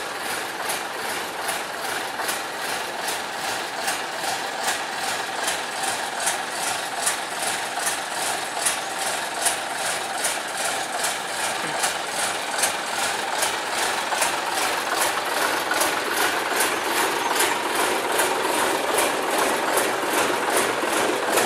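The engine of a small plantation locomotive or a Hokuriku-built draisine idles at a sugar mill yard, a steady, rapid mechanical chugging close by. It continues evenly for over twenty seconds with no talk.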